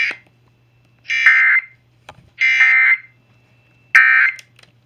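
An EAS emergency alert test plays over TV or radio as three evenly spaced, harsh, warbling electronic data bursts, each about half a second long, separated by silence and a faint low hum.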